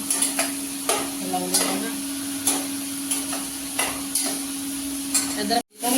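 Pumpkin is stirred and roasted in a pan: a spoon scrapes in repeated strokes against the metal over a steady low sizzle, close and fairly loud, stopping abruptly at the end.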